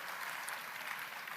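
Steady audience applause at a state-level Youth Mahapanchayat event, a dense wash of clapping that holds evenly throughout without a break.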